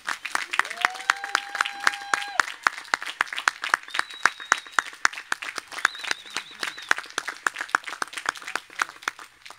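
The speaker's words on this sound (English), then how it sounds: "Extra special round of applause for this charter class." Steady, loud applause from a commencement audience for a class of engineering graduates. The dense, even clapping runs throughout, with brief whistles and cheers above it and no talk.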